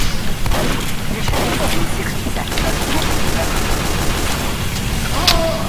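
Pistol and SMG fire rattles in Team Fortress 2 on the Sawmill map, a loud, dense stream of rapid shots and booms that continues almost without pause.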